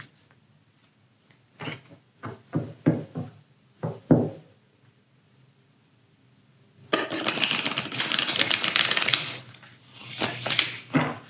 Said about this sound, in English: Let me just reshuffle good.